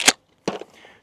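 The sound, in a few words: suppressed Mossberg 500 Hushpower 12-gauge shotgun shot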